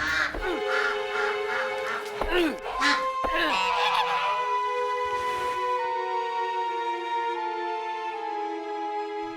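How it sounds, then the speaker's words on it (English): A goose honks repeatedly, loud and close, with a run of nasal calls at the start that give way to one long drawn-out honk. "The goose came back again."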